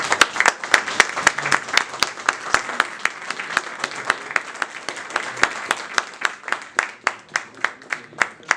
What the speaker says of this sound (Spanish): Aplauso para el profesor.